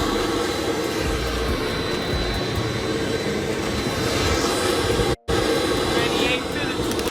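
A private jet's engine roars steadily and loudly throughout, a broad continuous whine and rumble with a brief dropout near the end, while talk runs faintly beneath it.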